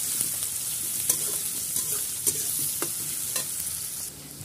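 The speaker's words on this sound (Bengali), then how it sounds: "দেখো বন্ধুরা, তেলের মধ্যে আমি পেঁয়াজটা দিয়ে দিয়েছি।" Chopped onion frying in hot oil in a pan for a restaurant-style chicken dish, a constant close sizzle broken by occasional scrapes and stirs of a spoon, with no one speaking.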